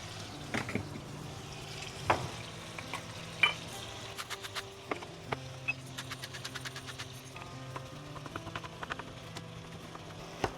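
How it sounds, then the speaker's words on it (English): Sausage being browned into crumbles in a pan, seasoned with salt and pepper, gives a quiet, steady sizzle broken by scattered crackles and light clicks of stirring, with no talking. "While you're cooking the sausage"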